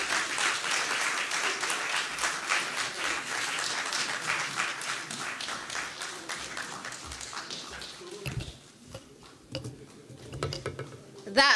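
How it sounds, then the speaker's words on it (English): Audience clapping at a journalists' association anniversary symposium after a speech, dense and fairly loud at first, then thinning into scattered claps and room noise with a few sharp knocks near the end. "The clap should be louder."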